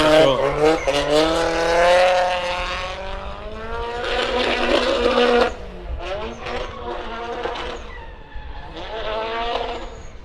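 A drift car's SR engine screams through rising and falling revs at a drift competition, loud and close, with rough bursts and brief dips as it works through the run.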